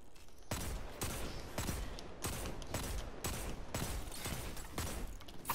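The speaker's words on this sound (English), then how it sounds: "Oh, he shot at me. He's trying to snipe me." Gunfire in a first-person shooter as an enemy sniper shoots at the player, heard as repeated heavy bursts in a regular rhythm of loud blasts, dense and close, with no voices over it.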